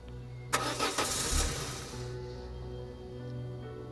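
A car engine cranks and catches in a video game, a sharp starter burst followed by a couple of seconds of revving that settles into a low steady idle.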